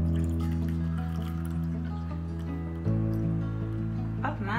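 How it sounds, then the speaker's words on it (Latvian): Water poured into a small container resting on a kitchen scale, a steady close trickle and fill under a constant hum, changing pitch near the end as the level rises. "noņemsim no staru un liekam iekšā ūdeni"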